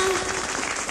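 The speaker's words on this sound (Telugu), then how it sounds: "claps for hour Alamelu Manga" Audience applause for a singer at a Telugu stage performance, a steady dense wash of clapping filling the whole second at moderate loudness, with a faint voice mixed in.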